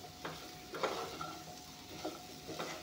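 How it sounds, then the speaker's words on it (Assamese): Vegetable stems are stir-fried with spices, and no onion goes in. A quiet sizzle sits under repeated scrapes and stirs of a spatula against the pan, with soft, irregular knocks of the utensil. "এতিয়া ডাঠাখিনি মছলাখিনিৰ লগত একেলগে ধুনীয়াকৈ ভাজি ল'ম"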